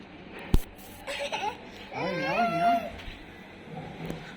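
A canteen cat lets out a drawn-out, wavering meow, close and fairly clear, after a sharp knock near the start, with softer cries and faint room noise around it.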